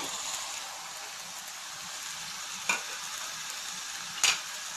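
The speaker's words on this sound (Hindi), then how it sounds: "तो देखिए अब हम इसमें चिकन कीमा ऐड कर देंगे" Chicken mince hits a pan of well-fried masala and settles into a steady, soft sizzle, broken by two short sharp clinks of a spoon against the pan.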